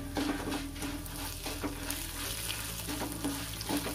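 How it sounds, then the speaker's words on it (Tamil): Dried red chilies and a piece of ginger frying on a medium flame, a dense, close sizzle with stirring scrapes running continuously and no talking. "மீடியம் ஃப்ளேமில் தான் ஃப்ரை பண்ணணும்."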